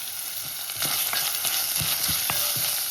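Ginger and chillies sauté in a hot pan, giving a steady close sizzle with a series of sharp scraping stirs from a spoon against the pan, and no talking.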